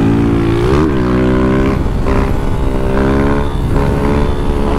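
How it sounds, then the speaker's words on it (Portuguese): Honda Titan 160 motorcycle engine hesitating as it accelerates, loud and close, its pitch climbing, dipping, then rising again in uneven surges with a steady roar underneath. "A moto dando uma segurada"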